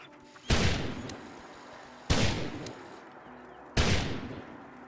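Three evenly spaced rifle shots from a .50 caliber gun in Fallout 4, each a sharp loud blast with a booming tail that fades before the next, no talk between them.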